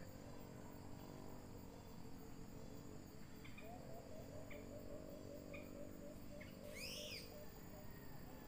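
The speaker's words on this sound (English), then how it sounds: "Where's that bird?" Bird calling over a steady chorus of crickets on an agricultural site in Bulacan, with short chirps scattered through the middle and a brighter swooping call near the end, all faint.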